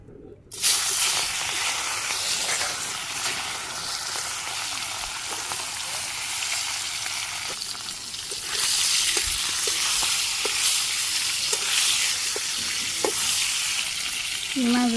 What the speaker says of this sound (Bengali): প্রথমে আমি তেল দিয়ে দিই, মাছটা ভাজি করুন।